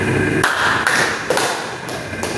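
A group of children claps in a classroom clapping pattern; several sharp, loud claps land at roughly even intervals, close by, with a reverberant room hum between them.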